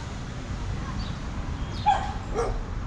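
A dog barks and whimpers out in a street, the short yips fairly faint and a little distant against steady outdoor background noise.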